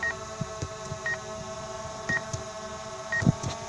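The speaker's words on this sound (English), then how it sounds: "it's that beeping thing" DJI Mavic Air 2 drone equipment giving short, evenly spaced electronic beeps about once a second over faint background hum.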